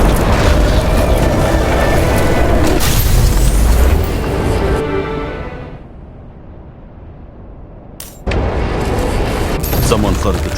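In the video game Nobody Wants to Die, an explosion set off by a flooded transformer catching fire sounds as a loud, broad booming rumble. It fades into a quieter tail, then the noise cuts abruptly back in at full strength.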